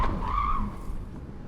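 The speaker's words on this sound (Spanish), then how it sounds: "ha sido la primera pasada con este Kia Sportage híbrido enchufable" Tyres of a 2023 Kia Sportage plug-in hybrid skid during a moose-test avoidance manoeuvre, a brief rising squeal that fades within about a second, heard from nearby.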